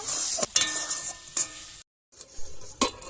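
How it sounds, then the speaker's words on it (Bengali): Semolina that has been fried and then mixed with water is stirred in a pan, producing a bright hiss and scraping strokes that come in bursts, broken by a brief moment of silence. "একটু নেড়ে চেড়ে নেব।"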